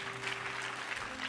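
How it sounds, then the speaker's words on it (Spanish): Congregation applauding during a church service, a dense continuous wash of clapping filling the room at steady loudness, with no voices standing out. "Aplauda para que me confunda."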